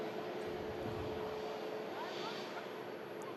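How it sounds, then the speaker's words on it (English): An Airlink Airways Bombardier Learjet 31 business jet at an airport gives a steady, even roar that holds at one level throughout, heard from a plane-spotting spot. "A Airlink Airways Bombardier Learjet 31 Alpha."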